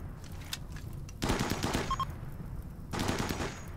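Gunfire in the video game RimWorld, a science-fiction colony battle, sounds as rattling bursts of automatic shots over a constant background hum, two dense volleys separated by a brief lull.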